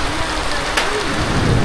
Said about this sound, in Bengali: টিনের চালের শব্দটা অনুভব করেন যে শিল পড়তেছে